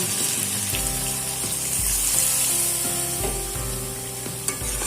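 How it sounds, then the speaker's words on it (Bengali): Water goes into a pan of sautéed coriander chicken, bringing up a loud, steady sizzle with bursts of hissing and low bubbling that keep going, alone without any talk. "এবার এর মধ্যে দিয়ে দেব পরিমাণ মতো জল"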